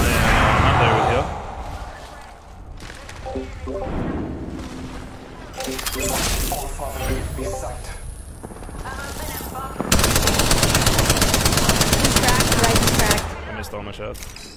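Gunfire in a competitive online shooter, with repeated bursts of rapid automatic shots and scattered single cracks, fairly close and loud, interspersed with quieter gaps and players talking.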